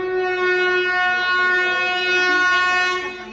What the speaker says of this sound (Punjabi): ਆ ਗਈ ਟ੍ਰੇਨ